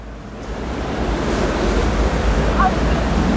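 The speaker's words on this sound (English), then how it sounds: "This is the actual pellet mill making the pellet." A pellet mill runs on the mill floor among many machines, producing a loud, steady, broadband roar that fills the space without pause.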